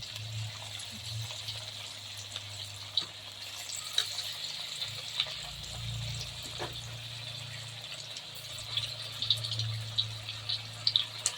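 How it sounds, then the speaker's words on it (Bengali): Chicken pakoras are dropped into hot oil and fry with a continuous close sizzle, scattered with small pops and crackles. "আমি আর একবার পকোড়া দিচ্ছি তেলের মধ্যে।"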